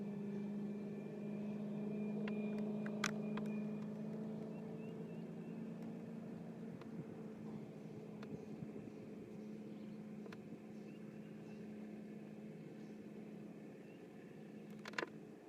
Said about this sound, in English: I'm going to turn my locator, my trolling motor up here and get moving around